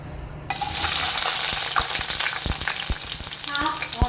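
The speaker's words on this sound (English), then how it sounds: "So I'm heating up a big tablespoon of oil. I'm going to add in my sliced onions." Sliced onions hit hot oil for a tadka with a sudden loud sizzle that carries on steadily, broken by a few clicks and scrapes of stirring, close up with no talking.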